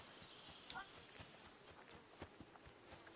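Horses walking at a slow, uneven clip-clop, hooves thudding softly and fairly close over a constant background hiss, with a few faint voices in a medieval setting.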